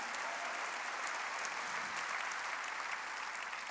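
Sustained applause from a church congregation at a worship service, steady dense clapping filling the whole stretch at moderate level without a break.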